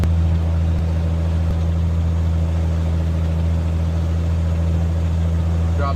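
A Cirrus SR22 Turbo aircraft piston engine held at 1700 RPM during a run-up magneto check, giving a loud, steady low drone that stays even throughout.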